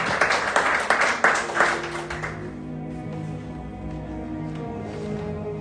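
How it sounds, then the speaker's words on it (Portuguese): A church congregation claps together in welcome of a preacher. The applause is loud and full for about two seconds, then thins into scattered claps over a low murmur of the room. "Receba o servo de Deus com palmas de vitória para Deus."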